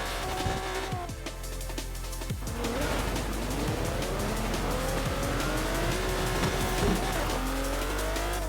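An X-Class car in Forza Horizon 4 tears off-road, its engine revving hard through rising gear sweeps with tyre scrabble and thumps over rough ground, loud and close throughout.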